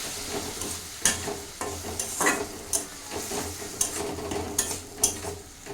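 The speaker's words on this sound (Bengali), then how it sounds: "আমার মশলাগুলি কষানো হয়ে গেছে" Spices sautéing in a pan for a thin Bengali fish curry, a continuous sizzle with repeated scraping stirs and light taps of the utensil, close and without talk.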